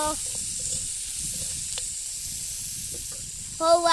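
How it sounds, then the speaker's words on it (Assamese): Onions frying in a pan for Maggi noodles, a soft, steady sizzle with light occasional stirring scrapes, faint and close, and a voice cutting in at the very end. "এতিয়া পিঁয়াজ দি আছে পেনে মেগী বনাবলৈ পিঁয়াজখিনি এতিয়া হিলাইছে"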